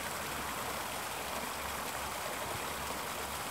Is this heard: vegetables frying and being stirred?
no